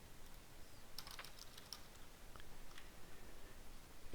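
Quiet, close keystrokes of code being typed on a computer keyboard, a short burst of quick taps followed by a few scattered clicks over low background hiss.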